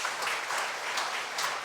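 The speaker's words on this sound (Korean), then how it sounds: "박수로." Brief applause from a church congregation during a Sunday worship service, a dense, steady wash of clapping at moderate level for under two seconds, with no voices over it.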